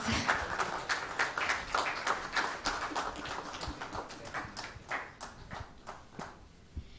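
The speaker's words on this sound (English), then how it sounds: "Let's have a round of applause for our speakers." Audience at a physical education session applauds the speakers, a fairly soft, steady patter of many hands clapping for about seven seconds.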